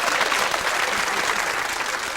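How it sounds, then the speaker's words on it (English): A TV studio audience applauds steadily on a 1990s British chat show, a dense, even wash of many hands clapping throughout, loud and close, with no talking over it. "give her a round of applause"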